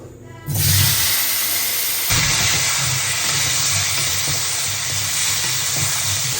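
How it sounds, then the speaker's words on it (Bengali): Cauliflower pieces frying in hot oil give a loud, close, continuous sizzle and hiss that bursts in suddenly after a brief quiet moment and then holds steady. "ফুলকপিগুলো ভেজে নেব।"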